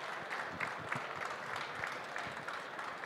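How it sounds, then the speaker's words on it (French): Audience applause following a conference presentation at a cybersecurity event, a steady dense patter of many hands clapping in a hall, continuous and moderately loud with no voices over it. "On peut vous applaudir."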